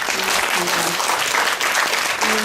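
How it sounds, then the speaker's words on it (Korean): Audience applause at a school education forum, a steady, fairly loud burst of clapping from a seated crowd that lasts throughout. "정말 다시 한 번 더 감사의 박수를 드리겠습니다"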